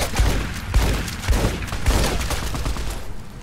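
Hunting shotgun fire in Fallout: New Vegas, several loud, close blasts in quick succession with a short rumbling tail after the last.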